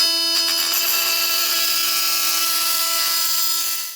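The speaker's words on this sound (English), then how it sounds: "so we're gonna try the multi-tool." An oscillating multi-tool cuts a stuck bolt beside the turbo manifold of an Eclipse GSX. The steady, high, close whine runs unbroken for the whole stretch and fades only at the very end.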